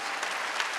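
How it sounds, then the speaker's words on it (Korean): A church congregation at a Korean Wednesday worship service applauding: a short, steady burst of many hands clapping together, dense and fairly close. "박수야."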